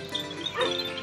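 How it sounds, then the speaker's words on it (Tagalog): A dog on a goat and sheep farm gives a short yip or whimper, a brief high whine lasting about a second, heard fairly close amid faint background noise. "May aso dito."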